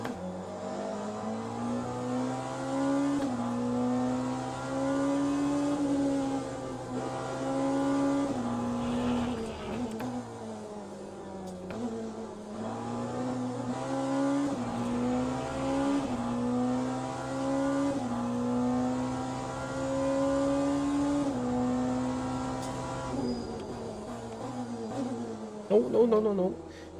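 A hypercar engine in Le Mans Ultimate at Bahrain screams at high revs in second gear, holding a loud sustained whine with shifting pitch. Near the end come brief revving bursts, and a voice talks under the engine throughout.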